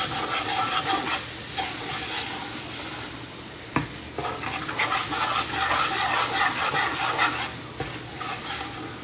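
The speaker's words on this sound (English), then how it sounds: "Let's give this a quick stir" Shrimp stew is stirred in a pot over a low flame, with a steady sizzle and bubbling under repeated scraping strokes and occasional knocks of the spoon against the pot.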